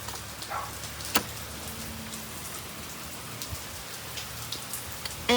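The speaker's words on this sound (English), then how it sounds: "It's raining already." Steady rain falls outdoors during a hunting trip, a soft continuous patter with occasional sharper drips and small knocks nearby, fairly quiet and without voices.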